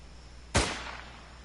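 One sharp gunshot rings out from a shooting gallery in a video game, a single loud crack with a short decaying tail over steady background hiss.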